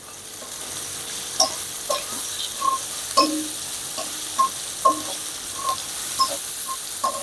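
Finely chopped prawns fry in a spiced masala, with a steady low sizzle broken by regular spatula scrapes and clacks against the pan every half second or so as the mixture is stirred.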